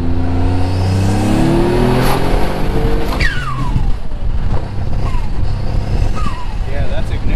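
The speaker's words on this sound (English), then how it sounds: "Touch the limiter, probably got spark blowout now." Built twin-turbo Mitsubishi 3000GT VR4 with a 6G72 engine revving hard on a dyno, roaring loud and close, then dropping off with sharp chirping turbo whistles as it decelerates, with voices faintly underneath.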